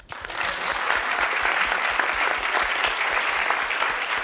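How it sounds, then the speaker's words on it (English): A lecture hall audience at a physical chemistry talk claps on request, a quick swell into steady, even applause from the whole room that holds until the end. "this is an equation, so I'd all like you to clap"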